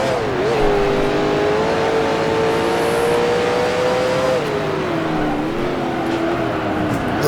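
A 1966 Can-Am race car engine in the Grand Prix Legends video game holds a loud, sustained drone with gradual pitch shifts as it revs and eases off, close and alone without talk.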